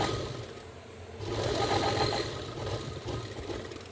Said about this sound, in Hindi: अब हम फिटिंग की सिलाई लगाएंगे।